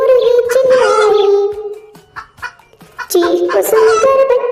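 A singing voice imitates a hen's loud clucking cry in a Hindi-Urdu nursery rhyme, with sung phrases and short clucking calls over musical accompaniment.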